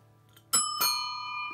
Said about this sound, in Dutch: Met een fietsbel